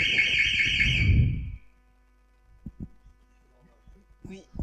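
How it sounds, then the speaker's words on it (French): An alarm sounds loudly with a shrill, buzzing tone for about a second and a half, then cuts off, leaving a low hum and a few faint knocks. "Oui, c'est l'alarme."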